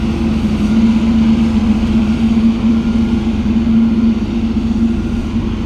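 A vehicle engine revs hard and steadily while its tires stay stuck fast, producing a loud, continuous droning whine close by with no pauses.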